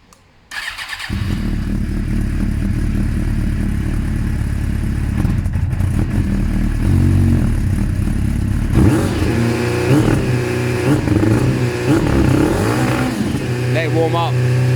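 Suzuki GSX-R 600 SRAD motorcycle starts after a second of quiet, then idles loud and steady with a deeper rumble from around nine seconds on, close to the microphone with no talk.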